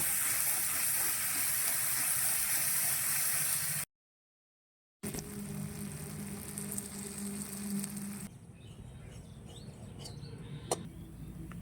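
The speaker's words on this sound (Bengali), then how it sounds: "মশলা নেড়ে করে ভালো করে কষিয়ে নেব।" Spices sizzle and hiss steadily as they are stir-fried in a pan for a Bengali egg curry (dim kosha). The broad frying noise stops briefly, then returns softer and continues to the end.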